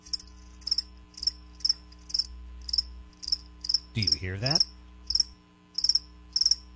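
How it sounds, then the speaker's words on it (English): Crickets chirp in a steady, evenly spaced series of about a dozen bright bursts, close and clear over a faint hum, with a brief voice speaking midway. "That's right, crickets."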